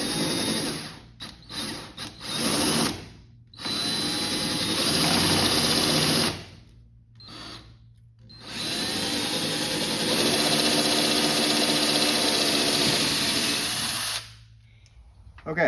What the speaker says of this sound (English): So I'm going to go ahead and drill this one out here.